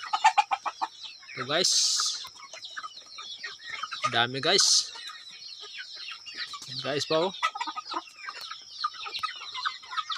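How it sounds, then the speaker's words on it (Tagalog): Pet chickens cluck busily as they are fed in the afternoon, with bursts of louder squawks breaking in. Someone talks over the flock now and then. "Pakain naman tayo sa ating alagang manok."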